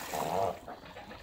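Water pours into a drinking container for chickens, giving a close, steady splashing flow that eases off after about half a second.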